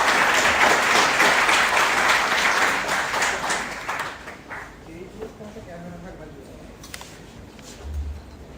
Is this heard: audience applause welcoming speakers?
yes